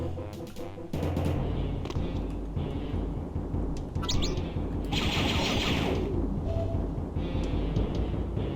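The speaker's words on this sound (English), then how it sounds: "They put bloomin' turrets in the vents!" Turrets hidden in the vents firing in a Star Wars video game, bursts of rapid gunfire with sharp blasts and crackling rattles over a busy game soundscape, loud and continuous after a short gap near the start.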